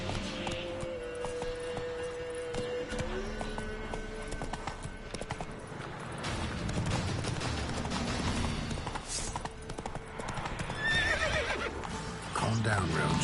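Roach, a horse in The Witcher 3, whinnies and neighs while hooves clip-clop steadily, all against a busy in-game backdrop with a voice speaking over it now and then.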